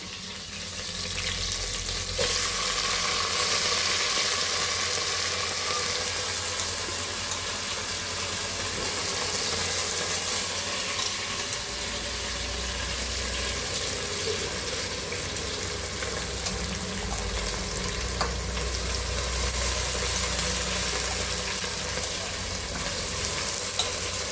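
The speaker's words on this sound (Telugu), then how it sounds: "కొంచెం వేగాక పప్పు వేస్తున్నాను" Lentils frying in a pan for khichdi, a continuous close sizzle with steady stirring and scraping over a low background hum.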